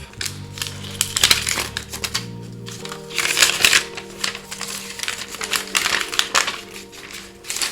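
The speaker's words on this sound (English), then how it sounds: "Let's get this plastic off." Plastic wrap being peeled and crinkled off AirPods Max packaging, close crackling and crinkling bursts over a faint background tone.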